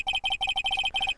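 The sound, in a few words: phone ringtone in Phoenix Wright Ace Attorney video game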